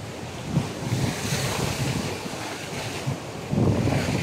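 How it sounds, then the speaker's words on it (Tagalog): Heavy surf rolls and crashes continuously against rocks on the Camotes Islands shore, with wind buffeting the microphone and a louder surge of breaking water near the end. "dito sa tabi, ang lakas ng alon"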